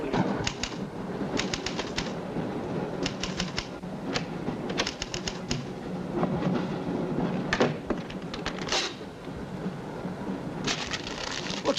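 A moving passenger train gives rhythmic bursts of rattling, clattering clacks from its wheels and carriage, repeating at an uneven pace over a constant rumble.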